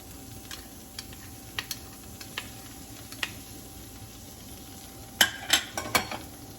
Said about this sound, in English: I'm going to let this melt and come almost to a smoking point, and then I will add the minced garlic